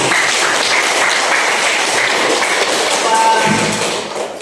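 A class of students gives a burst of clapping in a classroom, dense and loud from start to finish, then tapering slightly at the very end.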